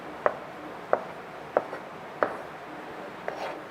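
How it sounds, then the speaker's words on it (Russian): A kitchen knife cuts blue oyster mushrooms on a board in five crisp, evenly spaced chops about two-thirds of a second apart, faint and close, with quiet room tone between strokes. "свой нож и нарежу их"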